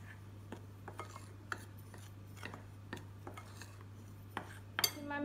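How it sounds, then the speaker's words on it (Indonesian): A spoon stirs pisang goreng batter with flour, sugar, salt and baking powder in a bowl, giving quiet, regular scraping clinks against the bowl roughly twice a second over a low steady hum, ending with a louder clatter. "Diaduk."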